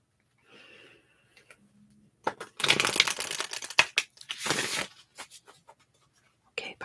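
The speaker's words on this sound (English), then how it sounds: "I am almost done shuffling your cards" Tarot cards are shuffled close up in a quiet room, giving a few bursts of riffling and crinkling paper sounds between short pauses.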